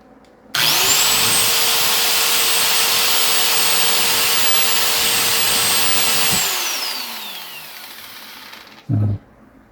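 A repaired electric grinder whines loudly and steadily for about six seconds after a click, then spins down as the motor coasts to a stop, followed by a brief knock.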